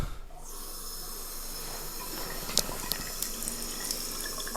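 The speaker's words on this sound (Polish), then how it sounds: "Woda całkowicie po nim spływa." Tap water runs over an Imax winter fishing suit, a steady faint splashing hiss with a few sharper drips and spatters partway through.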